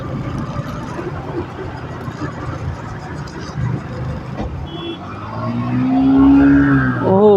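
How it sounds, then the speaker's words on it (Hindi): A Yamaha MT-15 motorcycle racing a Bajaj Pulsar NS 135 on the road, engines droning and revving outdoors with road and wind noise, one engine note rising and swelling louder toward the end. "भाई एमटी के साथ रेस हो रहा है, NS 135 वर्सेस एमटी।"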